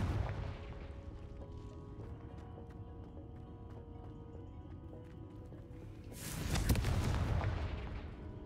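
Confringo fire spell explosion in Hogwarts Legacy, a loud booming blast bursting out near the end over a steady bed of game ambience and music.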